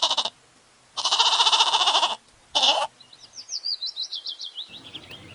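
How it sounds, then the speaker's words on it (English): A goat bleats loudly in three strong, wavering calls of differing length, close and clear, followed by a run of quick bird chirps with no talking. "G for goat."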